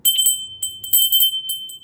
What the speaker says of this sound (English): All crystal bells there